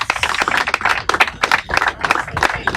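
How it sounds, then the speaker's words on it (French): An audience at a comedy and karaoke stage event claps, sharp, irregular claps from a smallish crowd that rise and fall in close, loud bursts without speech. "J'aimerais sans tarder vous demander quand même d'applaudir très fort pour maman Karine Pala."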